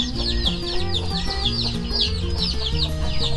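Hens clucking busily around newborn chicks only three days old, a dense overlapping chorus of clucks and peeps at close range, steady and continuous with no talking.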